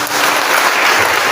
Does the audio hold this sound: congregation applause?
yes